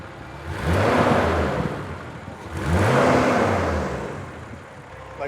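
Toyota Supra Mk2 engine running smoothly, a steady mid-pitched hum that swells twice in gentle surges, close by with no talk.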